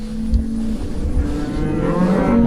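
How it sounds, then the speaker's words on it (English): Cattle being worked out in a field give deep, drawn-out moos, several overlapping calls from nearby animals over a constant low rumble of the herd moving about. "He can't hear over all the cows moving."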